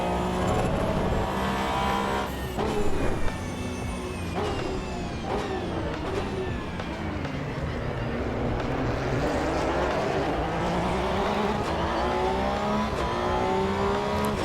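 A racing car engine in Assetto Corsa EVO drones steadily and loudly, its pitch rising and falling through gear changes, with several brief stuttering cuts in the power breaking the tone.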